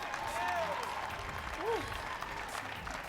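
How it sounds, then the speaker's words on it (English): Applause from an audience at a pole championship competition fills the clip, a steady wash of clapping with brief tonal sounds mixed in. "How about a huge round of applause for these incredible athletes?"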